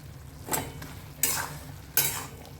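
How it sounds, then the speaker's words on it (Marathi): Three slow strokes of a spoon stirring a dried bombil (Bombay duck) and potato dish with coriander in a pan, each a close scraping swish separated by short pauses, with faint background hiss. "कोथिंबीर घालून असं मस्त ढवूया"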